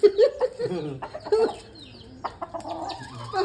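A chick squares off against a rooster, with close clucking, squawks and agitated fowl calls in short bursts and a voice murmuring faintly underneath.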